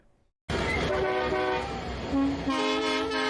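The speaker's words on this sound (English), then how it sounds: "I should remember that I have a choo-choo sound" A train sound effect plays on a game stream and starts abruptly after a brief quiet moment: loud, sustained train horn tones over rolling rail noise, with the pitch shifting partway through.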